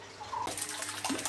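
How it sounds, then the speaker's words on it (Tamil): Water gushing from a tap or hose into a new tank, a steady loud rushing stream that starts abruptly partway in and continues to the end, with no talk. "இப்போ நாங்கள் தண்ணி பாய்ச்சிற மாதிரியும் பூட்டியிருக்கிறோம்"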